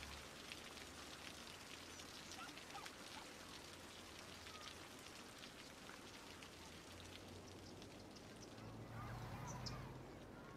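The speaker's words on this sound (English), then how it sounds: "I was gonna say it stopped raining, but it hasn't" Rain in a city-building game patters steadily and densely, an even hiss of drops close by with a low hum beneath, swelling slightly near the end.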